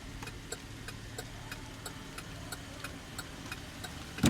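A 2016 GMC Acadia's hazard lights tick softly and evenly about three times a second over a low idling rumble, ending in a brief louder knock.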